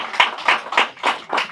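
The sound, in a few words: audience applauding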